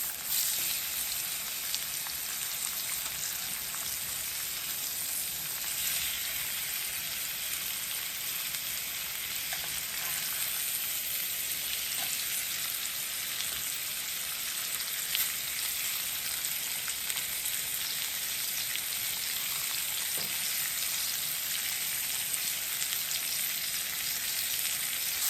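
Jerk-seasoned pork chops sizzling in a pan, a dense, continuous hiss that holds evenly loud and close throughout, with no talk over it.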